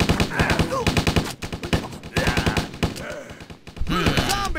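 Rapid bursts of gunfire in the zombie video game Stubbs the Zombie, a run of sharp repeated shots broken by short pauses, loud and close, with game voices and effects mixed in.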